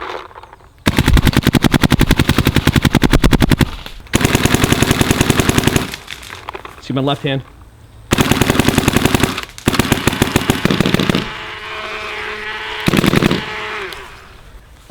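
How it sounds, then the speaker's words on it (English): A mechanical Dye DSR+ paintball marker fires in loud, rapid strings of shots, several bursts separated by brief pauses, with a short spoken line between them. "that is the Mech Dye DSR Plus. Both configurations sound really, really quiet."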